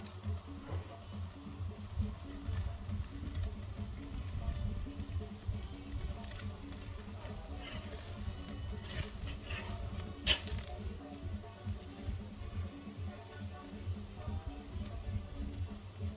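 Meat sears on a farm grill with a low, continuous sizzle and soft popping, fairly quiet and steady throughout, with a few sharper crackles and faint background movement.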